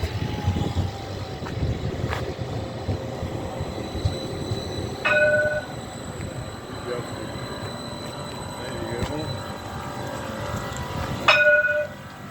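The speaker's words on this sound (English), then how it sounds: "Our tram to Princess Street." An Edinburgh tram rumbles along its rails with steady rolling noise and a few sharp squeals and clanks, interior hum throughout, some faint talk in the background.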